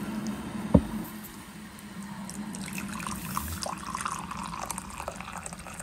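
Hot water running and splashing into a cup for instant coffee, a steady close-up liquid pour with a single sharp clink near the start and no talking.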